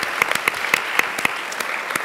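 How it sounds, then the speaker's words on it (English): Audience applause at a Silicon Valley energy pitch event, a steady wash of many hands clapping with a few sharper individual claps standing out, fairly close and continuous through the whole stretch. "Round of applause."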